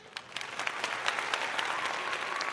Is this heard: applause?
yes